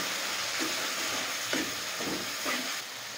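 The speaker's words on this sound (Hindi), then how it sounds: "अच्छी तरह भून लेना इधर मसाले को।" Red chilli, salt and tomatoes fry in a pan for a chicken liver dish, giving a steady hiss with a few soft stirring scrapes, close by and with no talk.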